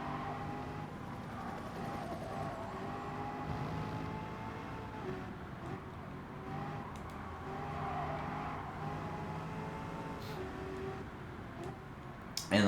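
Toyota Supra race car engine in Gran Turismo 7, a steady mid-level drone holding through corners with a brief rise at the very end, no talk over it.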